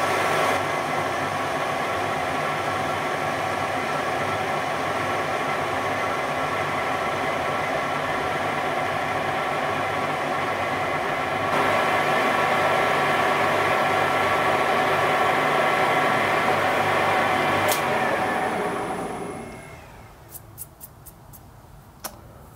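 A Warco GH1440 metal lathe running on an AT-1 variable frequency drive gives a steady, close humming whine with tonal motor lines while cutting. It then winds down to near silence, followed by a few sharp clicks.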